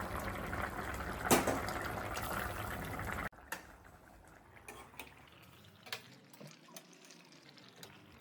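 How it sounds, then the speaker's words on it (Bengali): Egg curry gravy with fried eggs bubbles over a medium flame in a pan, a soft crackling simmer with scattered small pops; a louder clatter opens before the sound settles into quieter bubbling. "ঝোলটা ফুটতে শুরু করেছে"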